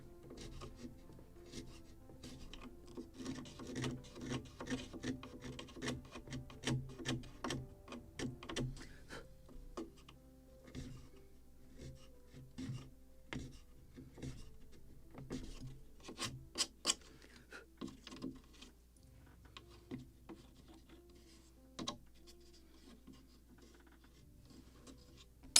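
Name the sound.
sanding the end of a wooden ship model part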